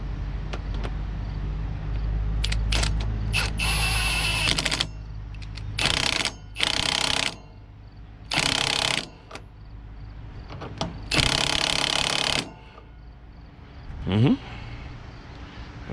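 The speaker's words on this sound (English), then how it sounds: "Get your impact gun, 15-16 socket." Impact gun with a 15/16 socket working the rear shock bolts on a Kenworth W900 truck, giving several loud bursts of rattling hammering separated by short pauses, with shop noise between.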